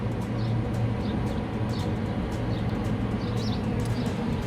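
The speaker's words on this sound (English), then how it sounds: "that's the noise you can hear in the background, is the extractor fans are on." Kitchen extractor fans run in the background as a steady, broad whooshing hum, with faint chirps from birds outdoors over it.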